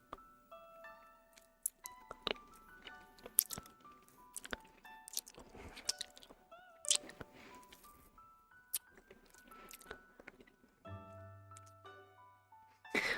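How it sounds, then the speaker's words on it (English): Someone bites and crunches a candy cane up close in a quiet room. Sharp, brittle cracks and crunches come at an irregular rhythm, mixed with softer chewing between them. "And then that's when you can get a big ol' crunch off of it."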